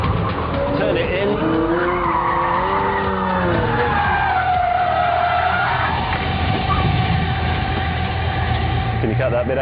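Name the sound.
Pagani supercar cornering fast with tire squeal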